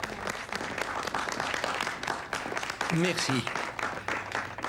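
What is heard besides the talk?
applause for someone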